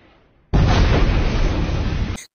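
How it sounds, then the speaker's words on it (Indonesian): A sudden, massive explosion erupts after a brief quiet lead-in, its deep roaring blast sustained for nearly two seconds before cutting off abruptly. "Karena ledakan bom, mobil mereka hampir hilang kendali di kebun pisang."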